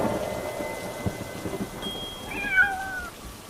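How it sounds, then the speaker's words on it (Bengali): Thunder rumbling through a rainstorm during the rainy season, a steady wash of rain with low rolls building in the background, while a cat's drawn-out meow rises clearly near the end. "বাজ পড়ছে আর আওয়াজ হচ্ছে"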